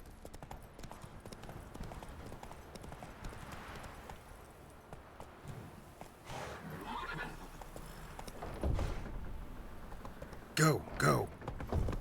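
Geralt's horse Roach in The Witcher 3, hooves clip-clopping at a steady trot with a couple of sharp whinnies near the end, set against light ambient game noise.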